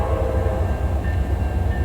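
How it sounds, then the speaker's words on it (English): The Denali Star Railroad train rolls through Alaska with a loud, close, continuous low rumble of cars on the rails, steady throughout with a faint tonal whine on top. "we were going back on the Denali Star Railroad to travel to Talkeetna"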